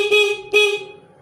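Two short honks from a Yamaha F1ZR motorcycle horn, engine off, close and loud, the second trailing off.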